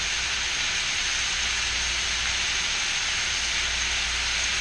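Butter sizzles steadily in a hot stainless steel pan with garlic shrimp, a continuous bright hiss and crackle with no talk over it.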